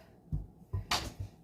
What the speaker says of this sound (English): That is my dog knocking at the door to go outside.